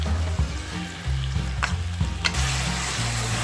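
Potatoes and fish cake stir-fry together in a pan, giving a steady loud sizzle with scraping and stirring clatter, and no voices.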